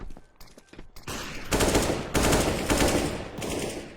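Rapid gunfire bursts in a competitive tactical shooter match, with loud, dense automatic fire in repeated volleys that follow a few scattered single shots.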